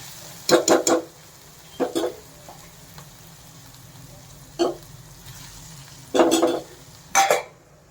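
Snake gourd curry with milk cooking in a pan, stirred in short scraping bursts with soft sizzling between strokes, five or six distinct stirs spread across the stretch at close range.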